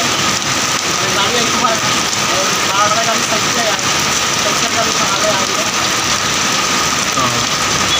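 Steady rain falls on an empty town market during a spell of wet weather, a dense continuous hiss of drops pattering on surfaces, loud and unbroken from start to finish with a faint engine rumble underneath.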